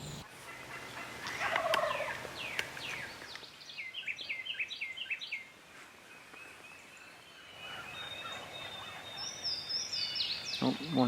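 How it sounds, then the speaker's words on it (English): Wild turkeys gobbling in a Kansas field, several rattling gobbles from a few birds at moderate distance, some overlapping, in quiet outdoor surroundings. "a whole stampede of turkeys coming right for us"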